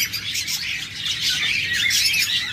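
A dense, unbroken chatter of shrill chirps and squawks from many lovebirds, including an albino pair, fills a busy bird shop, loud and close with no pauses.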